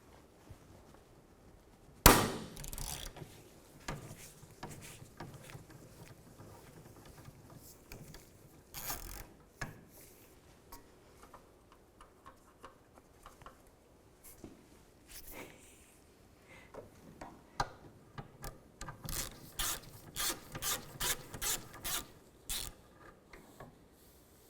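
A hand ratchet with a 14mm socket works a rear strut bolt loose on a 2001-2007 Volvo V70, with quiet clicking bursts, a sharp clank early on, and quicker rhythmic ratcheting toward the end.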